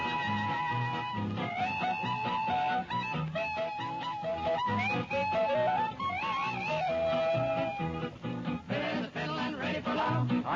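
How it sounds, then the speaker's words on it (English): Early country novelty song with a sliding whistle melody gliding up and down over a busy band, heard quietly as a recording. "What is that? Slide whistle?"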